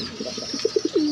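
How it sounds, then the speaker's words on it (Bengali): Afsan grizzle pigeons coo up close in a short run of soft, low, rhythmic notes that end in a drawn-out call, no speech. "এগুলো হচ্ছে গ্রিজেল কবুতর, আফসান গ্রিজেল"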